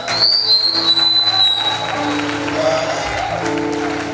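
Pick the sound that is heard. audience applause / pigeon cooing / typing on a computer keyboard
audience applause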